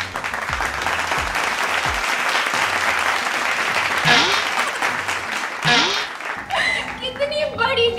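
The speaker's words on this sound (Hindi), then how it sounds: "तालियां" Crowd applause breaks out at an award moment in a Hindi TV drama, loud and sustained clapping that thins toward the end as voices begin talking over it.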